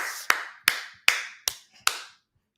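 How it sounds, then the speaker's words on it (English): Five separate sharp hand claps come close up at an even, slow pace. Each one rings briefly before the next, and silence follows the last. "Round of applause for Marcus."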